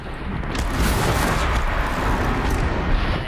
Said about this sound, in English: Let's hit him with some explosions then.